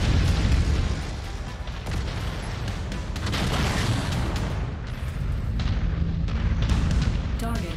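Mech weapons in MechWarrior 5: Mercenaries pound away in a loud, sustained barrage of cannon fire and heavy explosions, with booming impacts rolling one after another under brief spoken radio callouts.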